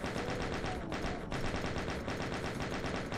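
Rapid, continuous chaingun fire in Doom II, a dense mechanical stream of loud gunshots with steady rhythm throughout.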